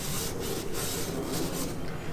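A Scotch-Brite pad scrubs rust from a cylinder bore of a 1980 Evinrude 115 hp V4 outboard motor, making a close, steady rasping rub with quick back-and-forth strokes.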